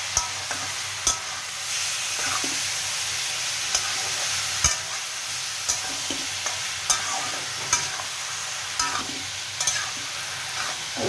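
Kachki fish being stirred in a frying pan, sizzling steadily with a series of sharp scraping clicks from the spoon at roughly regular intervals, close and alone with no talk.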